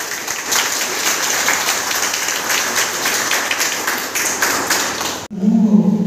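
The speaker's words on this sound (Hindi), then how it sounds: "हमारे आदरणीय गुरु जी के सम्मान में जोरदार तालियां बजाइए।" An audience gives loud, sustained applause in honour of a respected guru, a thick clatter of many hands that cuts off abruptly after about five seconds.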